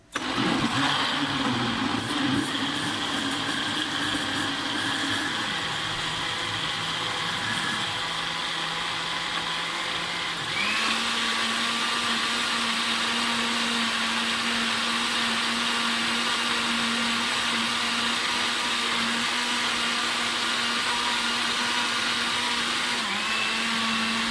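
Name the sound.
blender grinding boiled tomatoes into paste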